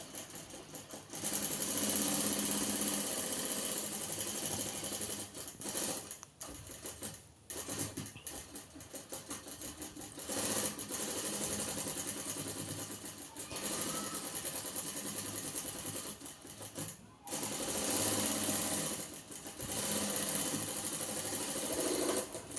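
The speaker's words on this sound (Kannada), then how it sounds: "ಅದನ್ನು ಫುಲ್ ಹಾಗೇನೆ ಸ್ಟಿಚ್ ಮಾಡ್ಕೋತಾ ಬರೋದು" A sewing machine stitches an embroidered blouse, whirring steadily in long runs, with short pauses near the start and again around the middle and late in the stretch. Nobody talks.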